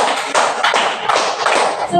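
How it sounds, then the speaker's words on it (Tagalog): A classroom group clapping in unison, a quick series of crisp, close hand claps in a short rhythmic burst with faint voices over them. "Bigyan natin ng limang palakpak ang ating mga sarili."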